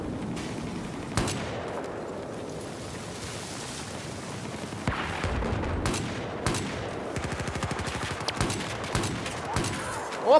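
Gunfire from the Battlefield 4 video game in Gun Master mode on PC, with repeated bursts and rapid shots, some clipped single cracks and a fast rattling volley, close and fairly loud over an ongoing battle din.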